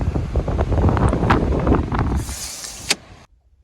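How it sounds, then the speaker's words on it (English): An electric vehicle window motor whirs as the glass opens on a windy day, with rumbling wind buffeting the microphone and a few knocks before the sound cuts off abruptly into near silence. "Okay, I'm gonna open the window. It's gonna get really windy"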